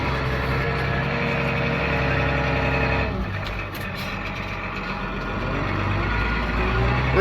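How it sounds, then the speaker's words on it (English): Steady diesel drone of a tractor with joystick control and a foot throttle moving a hay bale during winter feeding, a continuous close engine note that dips briefly and then swells again, with no speech. "Really super handy to have the tractor that's got joystick control with a foot throttle."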